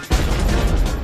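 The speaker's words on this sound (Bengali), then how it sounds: "ওগো বোমা পড়ছে।" A loud, broadband cartoon bomb blast roars from a Bengali animated episode, starting with a sharp burst and sustaining a rumbling, crackling noise for about a second.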